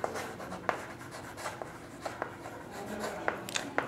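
A pen or pencil writes a tally-mark frequency table on paper, with short, quiet strokes scratching in irregular bursts close by.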